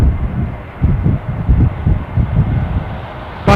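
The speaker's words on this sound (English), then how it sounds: "700 Embraer from London City" An Embraer jet from London City at Dublin airport gives off a low, continuous rumbling roar, mixed with gusty wind buffeting the microphone.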